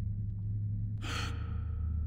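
A Quake II character gasps for air after surfacing from water, a sharp burst of breathy noise about a second in, heard alone over a steady low hum of game ambience.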